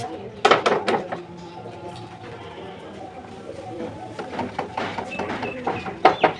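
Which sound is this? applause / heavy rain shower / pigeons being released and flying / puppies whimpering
pigeons being released and flying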